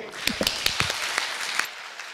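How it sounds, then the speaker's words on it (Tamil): A small ceremonial gathering breaks into scattered applause, with a handful of sharp separate claps rather than a full ovation, set against a background murmur. "அவங்களுக்கு இப்போ ஒரு கைதட்டு கொடுங்க"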